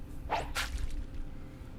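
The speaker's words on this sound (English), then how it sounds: "The man mercilessly slashes the girl with the sword in his hand" Two quick swishing whooshes in close succession, sharp airy sweeps of a sword slash in a visual novel game, like a blade cutting through the air, over a low steady background.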